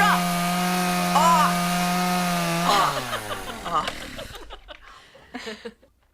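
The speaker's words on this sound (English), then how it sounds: "There's no chainsaws at group meeting." A chainsaw runs loudly with a steady, sustained drone, then its revving breaks up and winds down to quiet near the end, with voices heard around it.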